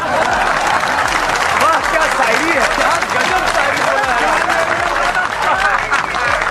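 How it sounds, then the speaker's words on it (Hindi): Dense, continuous clapping and applause from a crowd at a comedic poetry recital, steady and loud throughout, with excited voices talking over it. "ताली तो बजी ना"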